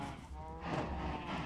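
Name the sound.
cows mooing in Minecraft video game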